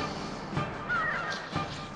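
Seagull cries from the video game Grandia during a sea voyage. A few harsh, caw-like calls ring out over a steady game background.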